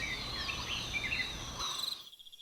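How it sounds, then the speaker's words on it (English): Crickets chirp in the evening, a dense, steady trilling that cuts off abruptly and leaves a few thin, pulsing chirps, a sound effect used in an audiobook. "crickets were already chirping, giving the atmosphere a sleepy vibe"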